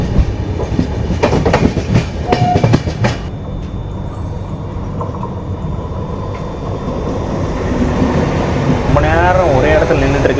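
Shatabdi Express running slowly between Coimbatore and Chennai, heard from inside the coach: loud rumbling wheels with clickety-clack beats early on, then a steadier low roll and hum with faint squeals.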